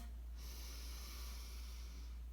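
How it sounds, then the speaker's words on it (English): A person breathes in sharply through the nose in one steady sniff lasting about two seconds, close but faint over a low background hum, with no talk. "Give it a sniff."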